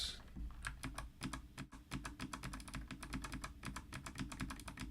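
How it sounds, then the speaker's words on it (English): Rapid, steady typing on a computer keyboard, with dense clicking keystrokes close up throughout and no voices. "this is a more natural speed for typing things in a box"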